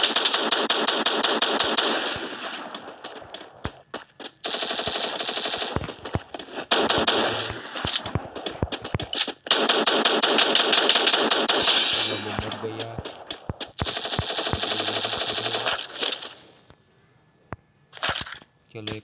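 Bursts of automatic gunfire from the Free Fire battle royale video game, rapid rattling volleys in several separate bursts with short gaps, loud and close, with a voice speaking between some bursts.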